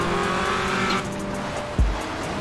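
A 702-horsepower 2021 Ram TRX truck in GTA 5 revs and squeals its tires while spinning out, a loud engine howl that cuts off, followed by a short low thump.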